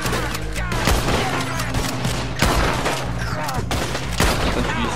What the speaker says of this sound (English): Let me shoot dude's head off